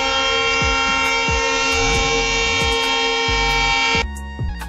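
A train blasts a long, loud, steady horn over the rumble of the running train, close by. The horn cuts off near the end, leaving the rolling rail noise.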